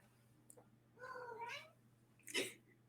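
A pet cat named Setkin gives two distinct meows in reply, the first longer and drawn out, the second short and sharp, close by in a quiet room with a low steady hum underneath.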